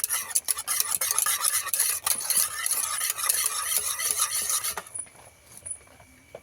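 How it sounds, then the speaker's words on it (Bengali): Oil and fruit juice being stirred together in a bowl for a fruit cake, a quick rhythmic scraping whisk-like swish that runs steadily then softens and fades near the end, close up with no talking. "তেল আর ফলের রসটাকে ভালো করে মিশিয়ে নিতে হবে"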